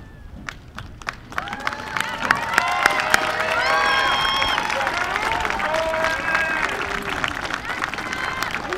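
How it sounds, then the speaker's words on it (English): Audience at a high school senior awards night applauding student narrators: dense clapping swells after a few sharp claps, mixed with cheering and whoops, sustained and fairly loud throughout. "Students, narrators, please come forward for a final round of applause for a job well done"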